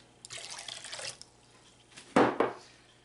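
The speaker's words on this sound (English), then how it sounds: "And then you're going to add 1 cup of cold water." Cold water poured into a dish while making pineapple strawberry jello bars: a splashy trickle for about a second, then a short, louder gush of liquid near the end, with no talking.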